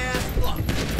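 Bursts of gunfire in GTA 5 Online, a dense one-second volley of shots with raised voices and shouting mixed in.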